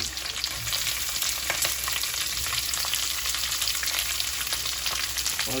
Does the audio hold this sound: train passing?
no